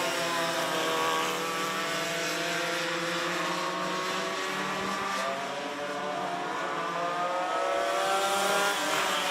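Junior 2 Yamaha racing karts on the final lap of a heat race at Forks Karting Speedway, with high, buzzing two-stroke engines droning steadily and loudly and a slight rise and fall in pitch as they pass.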